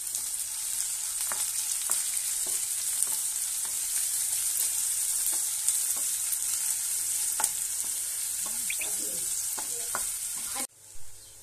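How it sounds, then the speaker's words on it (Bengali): Onion sizzles steadily in hot oil with garlic and whole spices for palak paneer, a constant hiss broken by regular scraping stirs and clinks of a spoon, then cutting off abruptly near the end. "রসুনটা হালকা একটু ভাজা হলে আমরা এর মধ্যে পেঁয়াজটা দিয়ে দিচ্ছি।"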